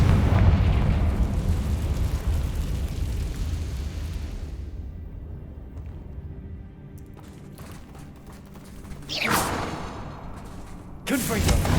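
Confringo spell blasts in the Hogwarts Legacy video game, a loud eruptive boom at the start rumbling away over several seconds, followed later by two sharp burst-like bangs.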